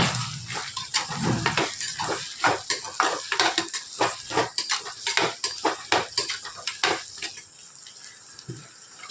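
Chopped ripe tomato with onion and garlic sautés in a pan for pirandai thokku, a close sizzle punctuated by many rapid scraping and clinking strokes of a spoon against the pan, with no voices.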